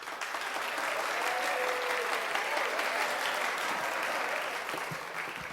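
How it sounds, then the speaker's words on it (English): An audience gives a performer a warm round of applause, a full, steady wash of clapping from a crowd, sustained at even loudness before easing slightly at the end. "Give her another round of applause"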